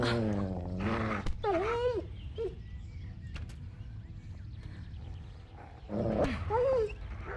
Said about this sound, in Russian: Это волк? Это собака какая-то.